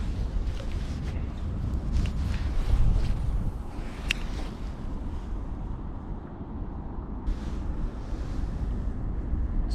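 Steady wind buffets the microphone outdoors on the Mississippi River during fall fishing from a boat, a constant low rumble with faint water lapping and no talk.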